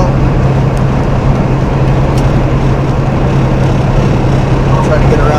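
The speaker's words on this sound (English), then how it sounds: "I'll go back up to 13th gear right now" A loaded semi truck with a 13-speed manual transmission grinds uphill on I-80 at Elk Mountain, Wyoming, its engine a loud, steady cab drone with a constant low hum and no clear break for the gear change.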